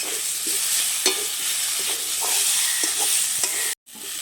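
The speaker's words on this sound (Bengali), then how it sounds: "এবারে নেড়ে চেড়ে আলুটা কষে নেব।" Boiled potatoes being stirred and fried in a pan for a fish curry with potatoes and tomatoes, giving a steady close sizzle with scattered utensil scrapes and taps, then a sudden brief silence near the end.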